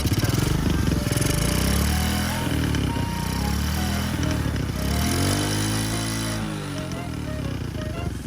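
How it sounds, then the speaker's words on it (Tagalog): A motorcycle engine runs loud and steady, then revs up with rising and falling pitch, holding near the top of its range without stuttering. "nawala na ang ubo ng kanyang motorsiklo during high RPM"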